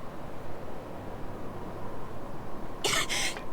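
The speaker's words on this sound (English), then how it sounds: "coughing and sputtering." A short burst of coughing and sputtering from dust near the end, close and brief, after a few seconds of quiet room tone.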